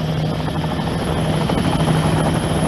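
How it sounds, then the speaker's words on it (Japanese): Helicopter arriving, rendered as a sound-drama effect: a steady, loud rotor drone with rapid blade chop, continuous and close, with no talking over it. "迎えのヘリが来てしまった"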